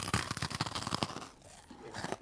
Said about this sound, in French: Ça croustille énormément et ça colle aux dents.